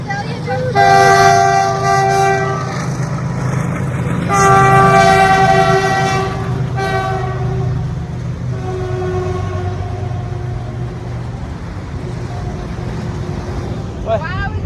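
A long train passes in India, heard from a rooftop with a continuous heavy rumble and clatter of cars rolling by, while a loud multi-tone horn blares in long blasts near the start and again midway, with talking over it.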